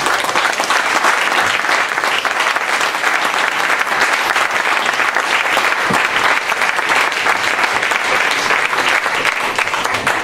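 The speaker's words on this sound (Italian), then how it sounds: "per cui io farei un grande applauso." Audience at a Christmas blues party concert gives long, dense applause, a steady loud roar of many hands clapping without a break, with faint crowd noise mixed in.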